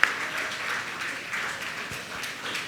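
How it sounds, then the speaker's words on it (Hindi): Sustained applause from an audience at a Jain religious gathering honoring officials, steady clapping with slight swells in intensity, moderately loud throughout with no voices. "आप तालियां लगातार बजती रहें।"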